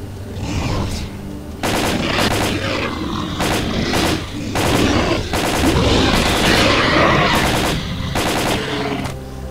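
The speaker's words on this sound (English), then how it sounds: "Firing from the hip is definitely a way to waste ammo, but it's kind of quick and dirty and necessary sometimes." MP5 fired from the hip in STALKER: Call of Pripyat, loud repeated bursts of rapid automatic fire broken by short pauses, with clicks and mechanical gun noises between volleys.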